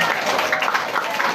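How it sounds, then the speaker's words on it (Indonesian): Crowd applause for Ustaz Sabriadi at an Islamic religious gathering in Bangkinang, Riau: a dense, steady wash of many hands clapping at even loudness throughout, with no voice over it. "Tepuk tangan untuk Ustaz Sabriadi."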